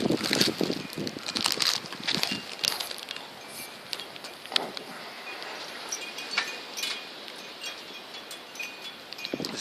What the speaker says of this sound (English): Wind's catching, picking up.